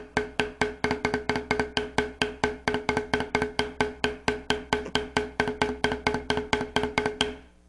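Beginner drum rolls squeezed too tight at the grip, choppy uneven strokes in a fast repeating pattern, close and fairly loud, with no talking.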